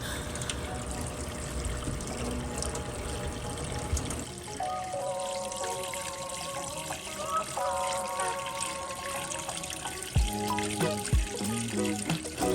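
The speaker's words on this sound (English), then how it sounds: "the water will start running through the colander with ease" Tap water running steadily into a colander as tomato seeds are rinsed clean of their gel, a soft continuous splashing trickle with brief clatters near the end.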